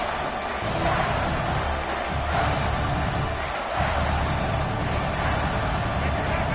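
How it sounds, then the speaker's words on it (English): A large crowd roars continuously at a packed college football stadium during a red zone defensive stand, a dense wall of cheering and noise with a few sharp bangs within it. "here comes the noise. This crowd is trying to inspire this defense to make a big red zone stop"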